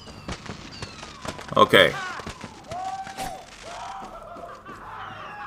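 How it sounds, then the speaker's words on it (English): Fireworks pop and crackle in the Far Cry 6 video game, with scattered bursts, one louder cluster and whistling trails, while someone briefly speaks. "There's a lot of fireworks,"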